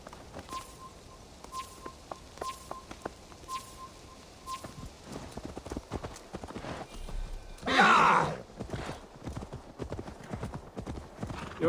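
Horse hooves clop at a steady walking pace in Assassin's Creed Valhalla, followed by a loud, close whinny partway through, with faint birdsong in the background.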